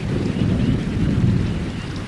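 A thunderstorm rumbles with heavy rain, a loud, dense low roar of rolling thunder under a steady hiss of rainfall, continuous throughout the short stretch.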